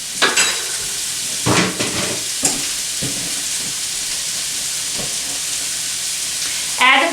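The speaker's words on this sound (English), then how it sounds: "So they're cooking in the heavy cream." Sliced potatoes simmer in heavy cream on the stove with a steady close bubbling hiss, broken by a few soft knocks and stirring clatters.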